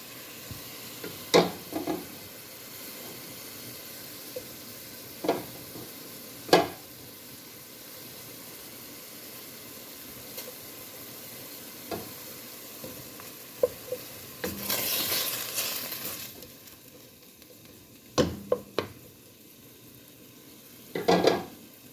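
Food sizzles steadily in a pot before cabbage goes in, a soft continuous frying hiss broken by sharp clinks and scrapes of a spoon stirring against the metal, plus a louder hissing surge midway.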